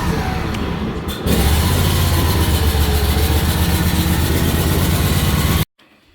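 A Toro Z255 riding mower engine runs steadily at throttle, a loud continuous drone with a faint tick near the start, then briefly climbs in level before cutting off abruptly near the end.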